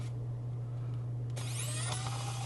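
An xCool mini electric screwdriver backing out screws, its small motor whirring steadily over a constant low hum, with the pitch rising and shifting as it spins up partway through.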